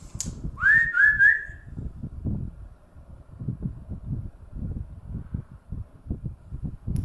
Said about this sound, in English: Can you whistle back?